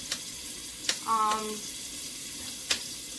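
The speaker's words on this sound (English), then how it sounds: "with my garlic. And just saute it for a few minutes." Garlic and onion sauté in a pan for Filipino lumpia with a low continuous sizzle, punctuated by a few light utensil taps and a brief squeaky scrape.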